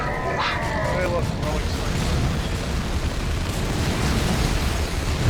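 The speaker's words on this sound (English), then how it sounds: "I enjoy those cyclone missiles a little too much." Cyclone missile explosions in the Dawn of War II video game form a dense, continuous wall of loud rumbling blasts and crackle, with a brief voice near the start.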